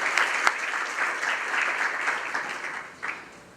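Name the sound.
audience applause for finance director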